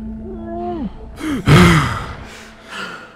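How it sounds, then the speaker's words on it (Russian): A Dying Light game character gasps and sighs for breath after surfacing from water, a few loud close breaths with a sharp intake in the middle, alone without talk. "Мой только что персонаж начал дышать раньше, чем вынырнул"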